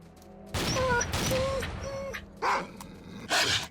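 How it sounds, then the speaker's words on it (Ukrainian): Mutant dogs in the S.T.A.L.K.E.R.: До Світанку game bark and yelp in several loud, close bursts, with brief whining tones between the barks. "Так, ось тут песики, наче були."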